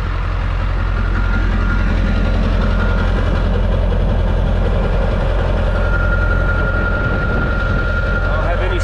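A Ford Powerstroke diesel engine running on used automatic transmission fluid idles steadily, a loud, low continuous rumble with a faint whine, close by and unchanging throughout.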